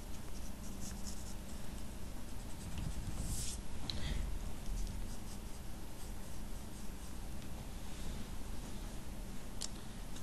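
A pencil sketches quickly on paper while drawing a futuristic rifle, producing a continuous soft scratching and rubbing with brief stroke bursts, close and quiet.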